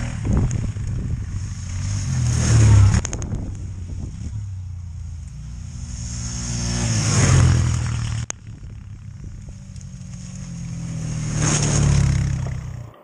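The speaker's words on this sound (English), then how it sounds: "Just a lot of wheel spin because of all the power of the 350" A 350 ATV engine revs hard in Alaskan snow with wheel spin, in three rising and falling surges of loud, close engine roar, with some clatter.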